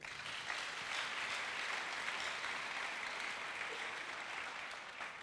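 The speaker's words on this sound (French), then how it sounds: "Est-ce qu'on peut acclamer le Seigneur?" Church congregation at a French-language worship service applauding and cheering, a dense continuous wash of clapping that holds steady and fills the space for several seconds.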